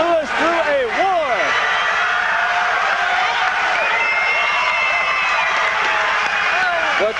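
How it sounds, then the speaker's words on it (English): A crowd at Joe Lewis's 1983 final kickboxing match against Kerry Roop rises, clapping and cheering for both fighters in a steady, loud wash of applause behind a commentator's voice. "The crowd already starting to stand on their feet and clap for both these fighters"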